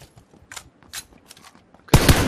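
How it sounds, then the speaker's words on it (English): Gunfire in the battle-royale game PUBG: quiet scattered in-game noises, then a sudden loud burst of shots near the end, dense and close. "Shit, gunshot."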